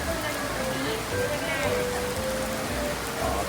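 Heavy rain pours steadily in a dense, even hiss on surfaces, with a voice speaking faintly beneath it.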